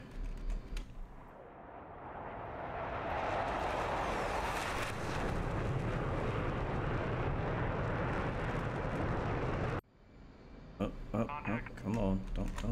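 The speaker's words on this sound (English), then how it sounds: "We'll get a flyby real quick" Jet aircraft in the DCS 2.7 flight simulator sweeping past in a flyby: a loud, broad roaring rush that builds and holds steady for several seconds, then cuts off abruptly, followed by talk.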